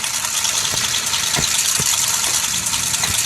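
Motorbike engine in the video game GTA 5, a steady idling rumble with a rattly texture that holds throughout, unbroken and fairly loud, with no voices.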